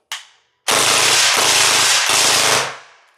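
An electric gel blaster with a weakening battery fires fat and smash gel balls against a pan: one sharp snap, then a loud, steady automatic burst of rapid impacts lasting about two seconds before fading. No speech.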